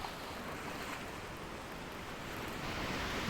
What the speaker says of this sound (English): The ocean's a little rougher too right now.